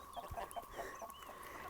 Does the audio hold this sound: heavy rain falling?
no